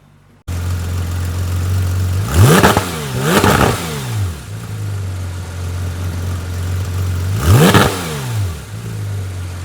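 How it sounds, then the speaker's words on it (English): A Porsche GT3 RS with centrally mounted twin exhaust pipes idles steadily, then is blipped hard three times, two quick revs close together and a third a few seconds later, each falling back to a loud, close idle. "Now, the GT3 RS also comes with a centrally mounted twin exhaust pipes there, which I'm pretty sure you guys are dying to hear."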